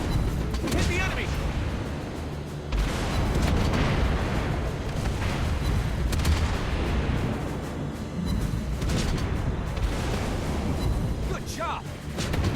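Naval gunfire from warships in the game World of Warships Blitz: repeated heavy booms and rumbling salvos over dense continuous battle noise, loud and sustained, with voices speaking over the action.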